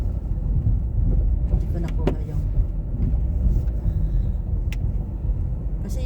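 A car drives along a road and turns right on the way to a Shoppers Drug Mart, its engine rumbling low and steady throughout, with faint talking mixed in.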